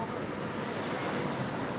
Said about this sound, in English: We are enjoying still the windy weather here outdoor in Dubai Creek